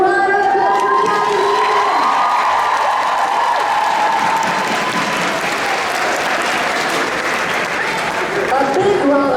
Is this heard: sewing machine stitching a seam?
no